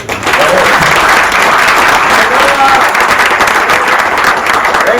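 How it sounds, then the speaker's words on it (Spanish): Audience at a book presentation on Chicano rap in Monterrey applauding the young author, loud sustained clapping from a full room, even and continuous, with some cheering voices underneath. "Pues un aplauso para el joven."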